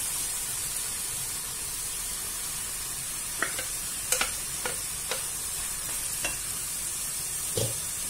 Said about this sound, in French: Maintenant, on va rajouter notre tomate.